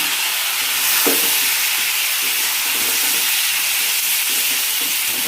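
Prawns frying with spices in a pan for a pointed gourd and prawn curry, a continuous, close sizzling hiss with a brief utensil clink early on and no talking.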